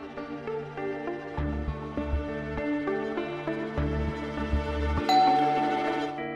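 A melodic electronic doorbell chime plays a sequence of tones, fairly clear and moderately loud, with a brighter ding near the end.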